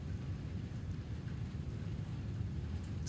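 Rain pours steadily outdoors, a constant broadband hiss and rumble with faint patter, unbroken and alone at a moderate, even level.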